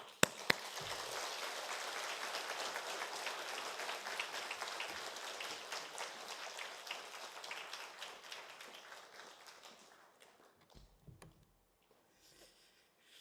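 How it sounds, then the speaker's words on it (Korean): A church congregation applauds loudly to welcome a pastor at a Wednesday worship gathering, a dense steady clapping that fades out after about ten seconds, followed by near silence. "큰 박수로 환영해 주시기 바랍니다"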